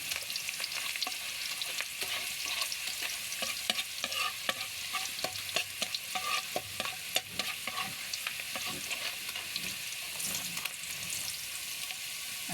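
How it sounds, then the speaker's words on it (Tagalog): Garlic and onion fry steadily in a pan, a continuous close sizzle broken by frequent scraping and stirring clicks for adobong kangkong, with no talk. "Kailangan natin maluto yung bawang at sibuyas"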